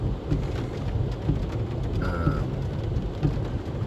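Steady rain falls in a dense, constant hiss, close and moderately loud, with a low rumble beneath it.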